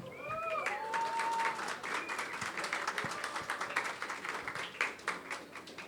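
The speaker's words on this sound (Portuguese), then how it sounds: "queria que vocês recebessem com uma salva de palmas nosso querido volante Guilherme Torres." An audience applauds a Corinthians midfielder at a lounge talk show, a dense patter of many hands clapping steadily for several seconds at moderate loudness, with a few brief voices over the start.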